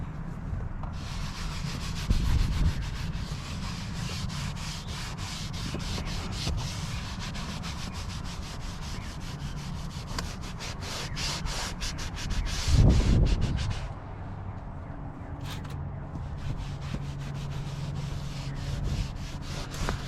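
A Scrub Ninja brush pad scrubbing a leather car seat with interior cleaner, giving a steady close rubbing, brushing texture that continues throughout with brief heavier strokes.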